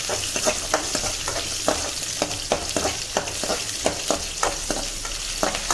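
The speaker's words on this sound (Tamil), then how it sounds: "வெங்காயம் நல்லா வணங்கணும்." Onions sizzle in hot oil for sambar, a steady frying hiss broken by regular scraping stirs of a spoon in the pan, close and clear.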